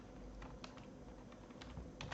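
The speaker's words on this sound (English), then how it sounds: "So let me type a variable." Steady typing on a computer keyboard, a continuous patter of soft close key clicks with a few sharper taps, no voices.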